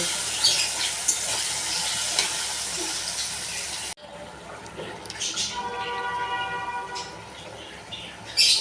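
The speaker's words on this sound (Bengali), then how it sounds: "এটা শুদ্ধ পেঁয়াজ আদা রসুন দিয়ে কষাবো" Jackfruit seeds sautéing with onion, ginger and garlic in a pan: a steady, dense sizzle with occasional stirring scrapes, briefly cut off and resuming, fairly close.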